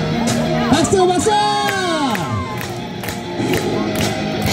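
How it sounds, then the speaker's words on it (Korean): An outdoor audience at a street busking show in Hongdae, Seoul, cheers and whoops loudly, with rising and falling shouts and scattered claps mixed into the crowd noise throughout. "박수 박수"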